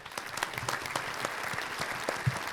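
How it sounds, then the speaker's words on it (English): A small audience claps at the very first episode of a show, producing faint, fairly quiet applause with distinct individual hand claps standing out. "Everybody clap it up,"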